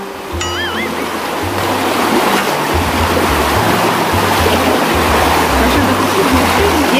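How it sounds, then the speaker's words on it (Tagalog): Strong current of a river or stream in Bohol rushing loudly and steadily throughout, a dense broadband roar with low voices occasionally heard underneath. "Malakas yung agos ng tubig."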